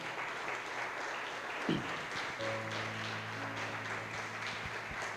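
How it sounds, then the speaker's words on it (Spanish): A church congregation applauding, a dense steady wash of clapping from many hands that continues for several seconds, with an organ or keyboard chord sustaining beneath it in the second half. "Dele un aplauso fuerte a Cristo"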